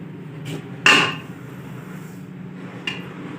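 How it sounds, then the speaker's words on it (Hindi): A kilogram of flax seeds tipped into a pan of golden roasted flour for pinni, giving a sharp clattering pour with a brief rattling tail, then a quieter tap a couple of seconds later. "अब हम 1 किलो अलसी ऐड कर देंगे।"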